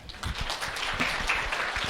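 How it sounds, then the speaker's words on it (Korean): A brief burst of audience clapping in a lecture hall, starting with a few distinct claps and swelling into a modest crowd applause over about two seconds. "박수 한번 칠까요?"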